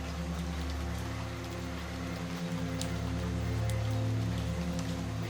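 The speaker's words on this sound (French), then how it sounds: "la pluie commence à tomber. Pas une averse, pas de violence, juste une pluie douce, régulière," Gentle, steady rain falls continuously, a soft even hiss with scattered drop ticks, set against a low steady hum underneath.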